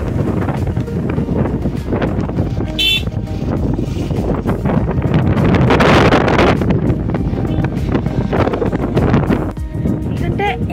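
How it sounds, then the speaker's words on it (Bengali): Strong wind roars and buffets the microphone without a break on a Darjeeling hillside, a loud rushing gust that swells in the middle and drowns out any other sound. "ফোন হাতে রাখা যাচ্ছে না, এত জোর হাওয়া হচ্ছে।"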